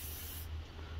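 Short, faint hiss of WD-40 spraying onto a sheet of glass before cutting, a steady airy burst that tapers off midway.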